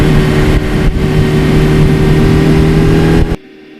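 A 1982 Suzuki GS1100E motorcycle engine revs loudly and steadily through its exhaust, a dense close throbbing roar that holds for over three seconds and then cuts off sharply.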